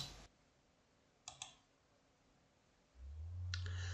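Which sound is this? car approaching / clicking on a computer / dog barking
clicking on a computer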